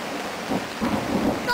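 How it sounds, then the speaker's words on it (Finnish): Thunder rumbles low and rolling through a rain shower in Hämeenlinna, Finland, with steady rain noise on surfaces filling the background and no voices. "Toi on ihan ok jyrähdys."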